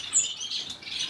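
Star finches make high, thin chirps and short squawks in quick succession, moderately close, with a soft hiss behind them at a bird expo.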